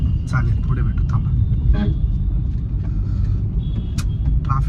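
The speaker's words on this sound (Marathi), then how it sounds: "ट्रॅफिक आहे, काय करणार यार." Road traffic with cars passing, a continuous low rumble of engines close by, while voices chatter faintly over it and brief horn-like tones cut through now and then.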